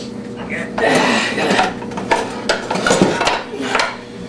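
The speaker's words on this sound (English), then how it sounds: "let me get out the frying pan here" A metal frying pan clanks and rattles against other cookware, with a few sharp clinks and scrapes close by, over a low background hum.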